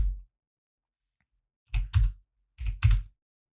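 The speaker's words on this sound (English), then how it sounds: "I'm going to type in something that's not even on the menu" Keys are tapped on a computer keyboard in two quick bursts of a few close, crisp strokes each, separated by silence, with a single soft thump at the start.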